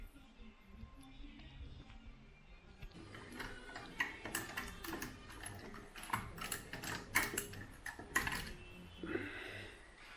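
A hand car jack is pumped to lift a Mk3 Ford Cortina, giving a run of quick, close metallic ticks and ratcheting clicks in uneven bursts after a quiet start.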